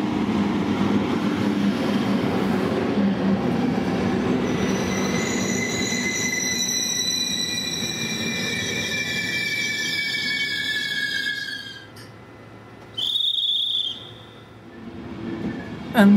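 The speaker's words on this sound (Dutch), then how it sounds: "komt deze Intercity, getrokken door een locomotief uit de serie 120" An Intercity train hauled by a series 120 electric locomotive rumbles steadily past near Rosenheim while its wheels squeal in long, high, drawn-out tones, fading near the end with a brief louder screech.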